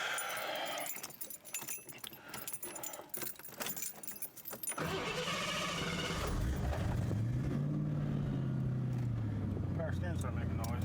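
A car's power steering groans under load while braking: a rising, wavering whine that builds and holds loud for several seconds after earlier clattering, keys jangling, with speech over it.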